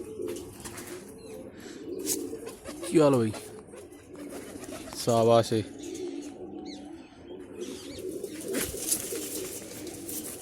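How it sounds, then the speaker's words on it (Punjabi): Pigeons cooing and chirping around a release of a small flock of five, with a couple of clear bird calls standing out against steady outdoor background noise, and someone talking briefly. "ਕਬੂਤਰ ਨੂੰ ਛੱਡਾਂਗੇ"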